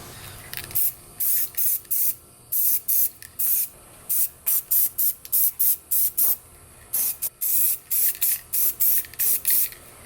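Short bursts from a spray paint can lay coats onto a Seadoo XP Limited hood under repair. The hissing sprays come in a quick, irregular series, close and fairly loud, with brief pauses between them and no talking.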